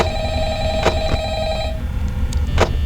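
Old-style telephone bell ringing in Five Nights at Freddy's, a steady electronic ring that cuts off partway through, followed by soft clicks and a brief tone, with no voices.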